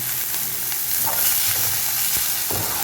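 Shredded cabbage sizzles and hisses in a hot pan for vegetable puffs. The frying is close and continuous, with stirring scrapes breaking through it, and no voices.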